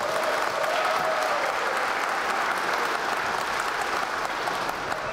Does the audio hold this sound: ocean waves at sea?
no